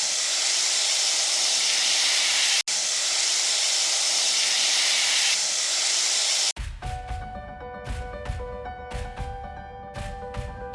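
Tamarind water poured into a hot pan for village-style neem flower puliyodharai hisses in a loud, steady sizzle for several seconds. It cuts off abruptly and music with plucked, percussive notes takes over.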